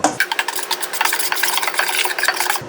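Sumac, salt and lemon zest being mixed together in a bowl, with steady close scraping and stirring that runs continuously for a few seconds and no talking.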